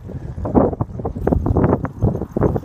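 Wind buffets the microphone of someone cycling outdoors, producing uneven, gusty low rumbles and rushing bursts that rise and fall throughout.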